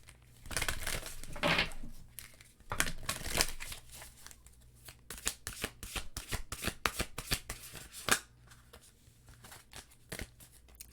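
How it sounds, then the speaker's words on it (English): Tarot cards are shuffled in repeated crisp bursts of riffling and flapping, close and fairly loud, with short pauses between rounds and no talking. "I'm going to pull your cards and then deliver your messages."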